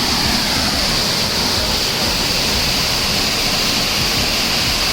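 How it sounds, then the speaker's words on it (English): A waterfall on a nature walk near Dehradun roars steadily and loudly from start to finish, with broadband rushing water and no speech heard. "if we come to a waterfall and don't step into the water"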